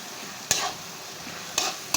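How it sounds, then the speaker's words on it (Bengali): Onions with chili powder fried in oil for a chicken roast, a soft low sizzle broken by three quick scrapes of a spoon stirring the pan. "এভাবে নেড়ে সুন্দর করে পেঁয়াজটা একটু লাল লাল হবে।"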